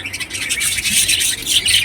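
Domestic pigeons call indoors in a home, producing a close, continuous run of chirpy squawks and fluttery bird sounds throughout, with no voices present.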